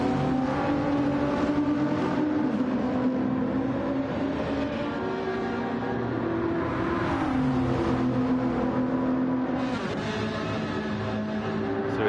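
Race cars roaring around Monza in a racing video game, a dense, continuous engine drone with layered whining tones that rise and fall as several cars hold speed together, loud and steady throughout.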